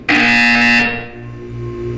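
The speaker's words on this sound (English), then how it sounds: "You will hear a buzzer." A loud, harsh buzzer in the video game Portal 2 sounds once, cutting off sharply after under a second and leaving a low ringing hum.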